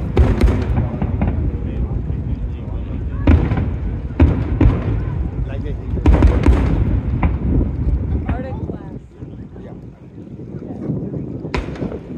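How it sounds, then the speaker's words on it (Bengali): A long Independence Day fireworks display in the United States, with deep booms and crackling bursts arriving at irregular intervals over heavy wind noise on the microphone, loud and outdoors, with some voices in between. "টানা 20 মিনিট ধরে এই ফায়ার ওয়ার্কটা চলেছে"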